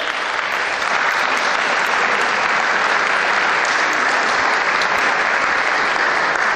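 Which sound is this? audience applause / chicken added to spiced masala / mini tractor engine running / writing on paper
audience applause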